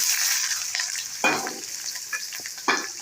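Onion frying in hot oil with mustard seeds and cumin for tempering, a continuous bright sizzle with a few stirring scrapes, close and clear with no voices.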